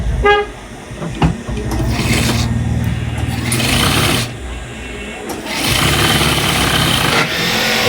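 A mini sewing machine stitches a palazzo salwar with a steady, loud whirring drone. The motor runs in long bursts with short dips, under a voice talking.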